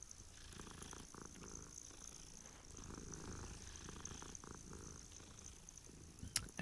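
A cat purrs in the video game Hogwarts Legacy, a soft, rhythmic rumbling purr that continues steadily throughout at low volume with no talk.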